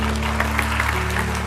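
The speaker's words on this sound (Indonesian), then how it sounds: "Kasih tepuk tangan untuk Tuhan Yesus." A church congregation applauds for Jesus during a sermon, a dense steady wash of clapping with a constant low hum beneath, fairly loud and without talk.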